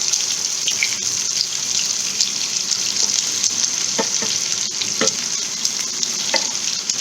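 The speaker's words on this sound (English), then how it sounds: "Now I'll add the shallots, finely chopped shallots" Finely chopped shallots fry in oil with browned garlic for an Assamese pink lentil dumpling curry: a loud, continuous close sizzle, with occasional clinks and stirring scrapes.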